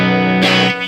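Brief strummed chord from a Squier Jazzmaster electric guitar in B standard tuning, played clean without any pedal; a bright, close chord that rings and then is cut off after under a second.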